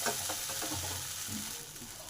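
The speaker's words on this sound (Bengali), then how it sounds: "এবার ডাঁটা বাটাটাকে ভালো করে ভেজে নেব" Ground drumstick (moringa) stem paste frying in a pan and being stirred continuously until dry, giving a steady close sizzle with soft scraping strokes throughout, no voices.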